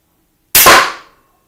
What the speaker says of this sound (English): it definitely, as you can hear, a bigger thunk on target